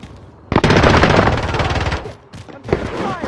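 Rapid automatic gunfire bursts loudly in the video game Warzone, a sustained rattling string of shots followed by a brief pause and another burst, with little talk.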